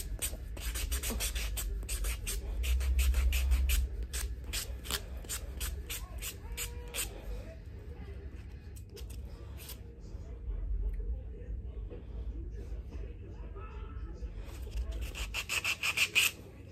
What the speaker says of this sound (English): Make sure you buff away the scratches.